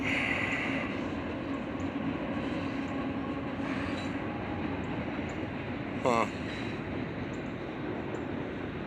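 A train rolls past outdoors with a steady rumble of wagons on the rails and a brief metallic wheel squeal partway through. One person makes a short remark over it.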